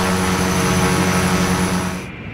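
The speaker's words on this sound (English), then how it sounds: "the other thing I want you to hear is the engine sound from the outside." Quest Kodiak single-engine turboprop simulated in X-Plane 11, heard from outside the aircraft: a loud, steady droning engine roar with a high whine, holding constant before easing slightly near the end.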